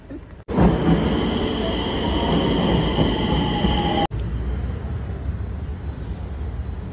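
A metro train rumbles loudly and steadily past at close range, a sustained roar with a faint whine above it that cuts off abruptly partway through before continuing at a lower level.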